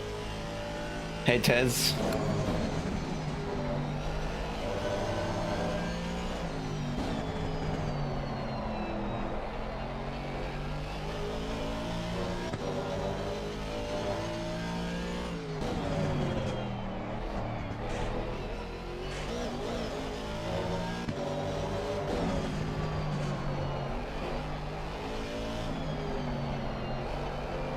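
A race car engine in a racing video game (LFM, S10 car) drones and revs continuously, rising and falling through gear changes under steady talk, with a brief voice near the start.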